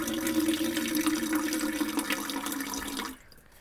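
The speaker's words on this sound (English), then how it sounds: "I can just get some water right there." Water runs steadily from a faucet inside a converted Class B camper van for about three seconds, a close, full splashing stream that cuts off abruptly near the end.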